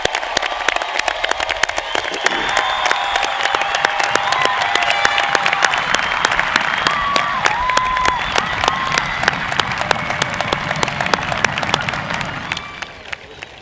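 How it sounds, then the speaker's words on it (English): A large crowd applauds the graduating class of 2018 at a high school graduation ceremony, with dense, sustained clapping and some cheering that fills the space before fading at the end. "How about a quick round of applause for the class of 2018?"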